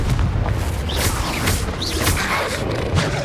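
Confringo blasting spell explosion in Hogwarts Legacy, a loud, sustained rumbling blast with a deep low-end roar that carries steadily for a few seconds alongside crackling debris.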